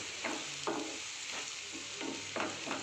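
Crushed garlic and chili paste is stirred into eggplant bharit in a pan, soft scraping strokes every half second or so over a low steady sizzle, close but gentle, no talk.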